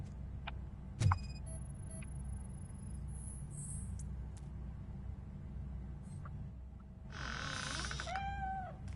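A cat meows in the Robocop game on PS5, a faint, wavering cry near the end after a quiet stretch of soft clicks and ambient hum.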